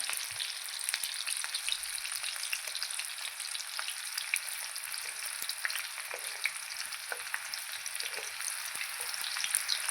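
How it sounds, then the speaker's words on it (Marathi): Green chillies and onion sautéing in a pan for a cabbage dish, a dense, bright crackling sizzle that runs evenly throughout with tiny popping spits and faint stirring; no voices. "तर हिरवी मिरची आपल्याला छान परतून घ्यायची आहे"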